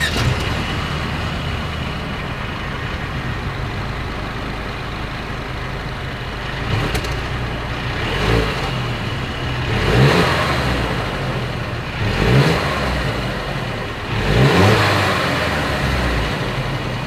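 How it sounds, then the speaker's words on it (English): A 2022 Mercedes-Benz GLC 300 Coupe exhaust idles with a steady low rumble, then several short revs swell and fade at regular intervals, close and loud, with no talking. "As always, here is that exhaust clip."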